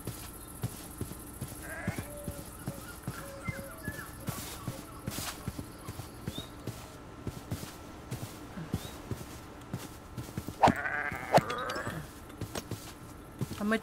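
Minecraft sheep bleat briefly a few times, faint and mid-distance, amid steady game ambience with repeated soft clicks and footstep-like taps throughout.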